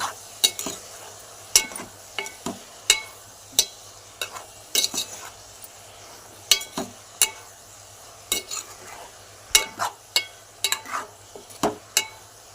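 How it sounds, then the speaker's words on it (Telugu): A spoon scrapes and knocks against a pan while broad bean and tomato curry is stirred, giving sharp, close taps in irregular clusters over a quiet background, with no speech. "చిక్కుడుగాయలు ఉడకబెట్టినవి కూడా వేసేసాను కలుపుకున్నాము"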